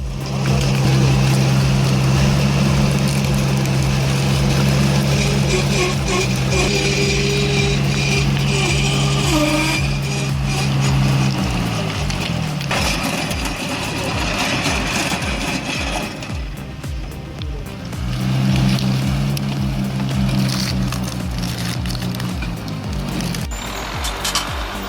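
The engine of a small LKT-81 logging tractor with tire chains and a rear winch drones steadily as it drags heavy logs over rough terrain. The loud, continuous hum dips in pitch partway through and then recovers.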